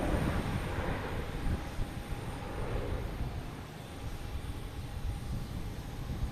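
A Delta Boeing 737-800 airliner arriving from Cancun comes in to land at Boston Logan Airport. Its engines give a steady, broad rumble and roar at moderate distance, with a faint high whine running through it.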